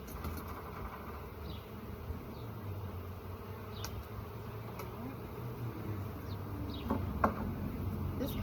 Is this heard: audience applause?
no